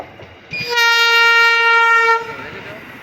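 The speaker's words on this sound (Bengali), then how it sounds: "এখনই দেখতে পারবে ট্রেনটা আসবে।" Passenger train approaching on a line beside a house, sounding a long, loud steady horn blast for over a second amid rumbling rail noise, heard close by.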